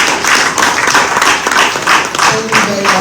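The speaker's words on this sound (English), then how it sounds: "So please, a round of applause for our governor." An audience claps continuously for a state governor at the commissioning of an innovation district, a dense, steady wash of applause lasting the whole stretch with a voice faintly beneath it.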